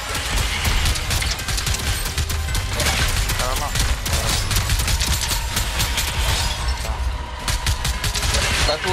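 Gunfire fills a Fortnite match with dense, continuous rapid shots and crashing impacts, loud and constant throughout, with voices talking faintly underneath.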